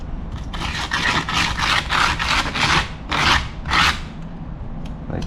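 Aluminium being hand-sanded for jewellery making gives a close, rasping scrape in a series of about eight rhythmic back-and-forth strokes, each a short gritty burst separated by brief pauses.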